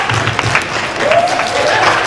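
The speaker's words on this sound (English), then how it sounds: "A round of applause" A school audience at a student program gives a round of applause, a continuous wash of clapping that holds steady and fairly loud for the whole stretch.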